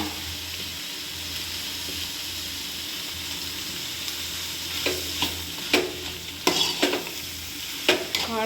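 Grated fresh coconut and coriander fry in a pan for a village-style Karnataka sambar, a steady soft sizzle under repeated scraping stir strokes that grow louder and more frequent toward the end.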